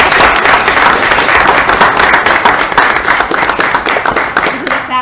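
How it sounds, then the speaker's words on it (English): Sustained audience applause at an event honouring a speaker, dense steady clapping from a crowd filling the whole stretch, loud and close, with a voice briefly audible near the end. "Another round of applause, please."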